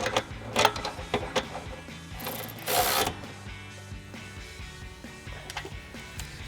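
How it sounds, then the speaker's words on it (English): Ratchet with a 15mm swivel socket tightening the top bolt of a nerf side step bar on a 2021-2023 Ford Bronco 4-door, heard as quick faint clicking and ratcheting strokes with a short burst of scraping in the middle. "we're going to first tighten our top bolt here with our 15mm swivel socket on our ratchet"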